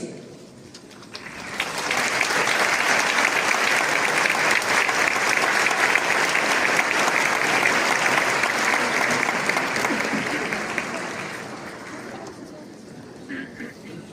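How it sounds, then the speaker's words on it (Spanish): An audience in Toluca de Lerdo, Mexico gives a speaker a long, full round of applause after an entrepreneur's talk. The dense clapping swells after a second, holds steady, then fades toward the end. "Hay que darle un fuerte aplauso a Rodrigo"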